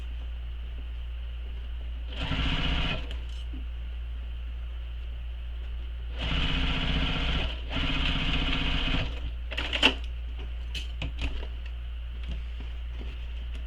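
A sewing machine stitches a backpack in three bursts of rapid, even mechanical whirring against a low steady hum, ending in scattered clicks and handling taps.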